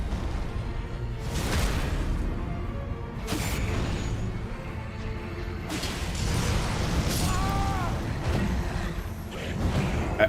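Blood flame explosions in Elden Ring burst several times in a row, each a loud whooshing flare amid ongoing combat clatter and mechanical game sounds.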